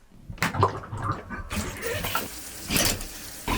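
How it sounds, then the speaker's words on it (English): Water runs and splashes from a shower inside a narrowboat's small bathroom, a steady close wash with irregular louder bursts as the spray shifts, and no talk. "We take a shower. Water, go down there."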